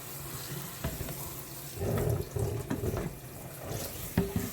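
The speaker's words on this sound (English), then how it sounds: "we're just gonna rinse and rinse and rinse and rinse and rinse" Tap water runs and splashes over cabbage being rinsed in a kitchen sink, with uneven gushes and spatter that swell and ease over a few seconds.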